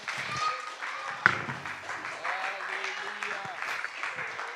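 Congregation clapping and cheering in a French-speaking church service, a broad wash of applause with voices mixed in, one sharp clap standing out near the start.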